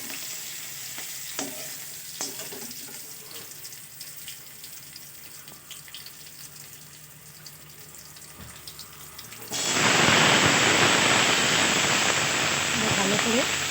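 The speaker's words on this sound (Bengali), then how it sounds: "কাঁচা লঙ্কাগুলো একটু ফ্রাই হয়ে গেলে সবজিগুলো দিয়ে দেব।" Slit green chillies hit hot oil with a sudden loud, steady sizzle that starts partway through, following quieter kitchen clatter and faint stirring sounds; the frying stays close and constant to the end.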